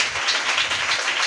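A church congregation applauds during a sermon: a dense, steady wash of many hands clapping together, loud and continuous throughout the short burst, with no voice over it.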